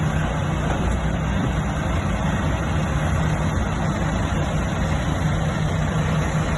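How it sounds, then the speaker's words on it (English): A vehicle engine runs close by with a steady, continuous low rumble and broad noise, holding an even loudness from start to finish with no voices over it. "Ayan, start engine na."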